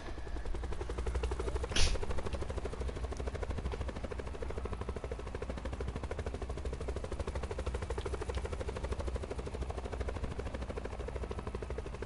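A helicopter in the video game Black Ops 4 drones steadily and loudly with a pulsing rotor chop throughout, broken by one brief sharp burst near the start, with no voices.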